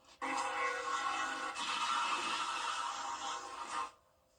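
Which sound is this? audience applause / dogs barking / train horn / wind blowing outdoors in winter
train horn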